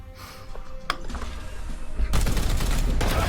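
Gunfire in Warhammer 40,000: Chaos Gate - Daemonhunters, with a sharp crack near one second, then a dense, loud burst of rapid shots and mechanical clatter filling the last second and a half.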